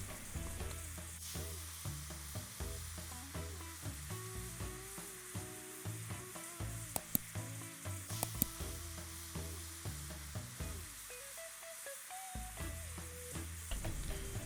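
Seasoned blackened fish fillets sear in a skillet, a soft continuous sizzle with occasional scraping and utensil clicks, no talking.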